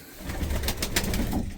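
Racing pigeon cooing at a loft, a soft throaty coo that pulses a few times in quick succession, close and moderately loud against a low background rumble, no talking.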